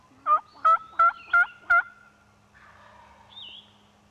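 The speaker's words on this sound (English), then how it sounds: "Nothing beats having a big old boss gobbler answering your calls early in the morning." A wild turkey gobbler answers calls in the early morning with a rapid burst of five loud, rattling gobbles, followed by fainter bird calls in a quiet outdoor setting.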